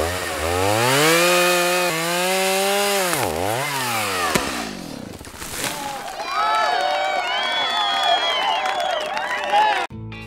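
A chainsaw cuts through an already dead tree, its engine revving and bogging in rising and falling pitch sweeps. It runs loud and close for most of the stretch before cutting off abruptly near the end.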